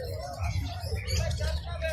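Adult sun conures calling at a busy pet market, their chirps blending into a steady wash of crowd chatter and background noise.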